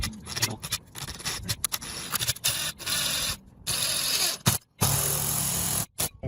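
A power tool drives a lag bolt slowly into a wall stud while a Starlink Pro mount is installed, giving a rough, grinding whir in bursts broken by short pauses.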